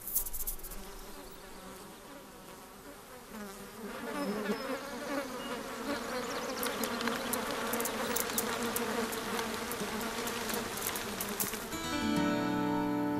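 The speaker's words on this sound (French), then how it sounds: "Mais laissons les insectes à leurs ébats" Flies and other insects buzz steadily on a hillside, a dense continuous drone that swells in the second half, with no talking.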